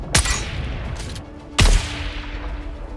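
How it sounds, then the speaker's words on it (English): Two heavy, booming sniper rifle shots ring out in the video game Dune Awakening, each a sharp loud crack followed by a long rolling tail, spaced about one and a half seconds apart. "Sniper rifle sound feels more powerful when firing."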